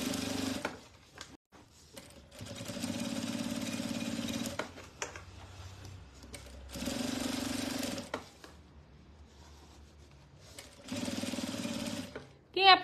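A sewing machine quilts fabric for a bread basket project, running in three sustained, steady bursts of a couple of seconds each, separated by quieter pauses, with faint talking in the gaps.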